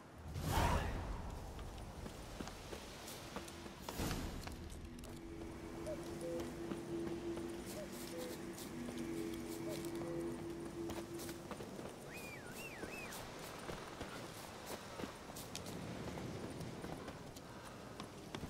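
Roach the horse gallops in The Witcher 3: Wild Hunt, a steady rhythmic clip-clop of hooves running through a forest, moderately loud and continuous, with wind-like swooshes and occasional faint game tones.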